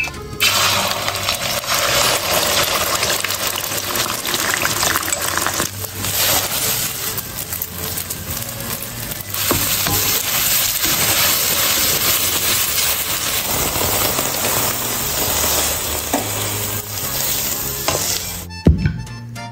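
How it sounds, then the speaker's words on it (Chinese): Chinese chives and eggs stir-fry in a wok with a sustained, loud sizzle, overlaid by scraping and tossing of the spatula, ending in a sharp clank. "再给亮亮炒一个韭菜鸡蛋。"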